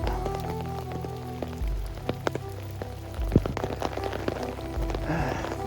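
Steady rain falls on a slippery footpath beside a tree in warm weather, a close, continuous patter with scattered louder drops and no voices.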